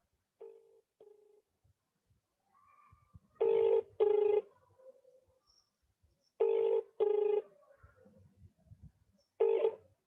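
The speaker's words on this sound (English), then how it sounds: "His phone is ringing now." A telephone rings in a room during a school English club inauguration: short bursts of electronic ringtone repeat in pairs at intervals, moderately loud over faint background noise.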